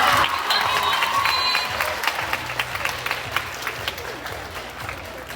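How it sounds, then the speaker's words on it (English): A room of spectators claps for a model at a sustainability fashion showcase, dense applause starting loud then thinning into scattered individual claps, with a few cheers over it. "Can I get some more round of applause for Honesty?"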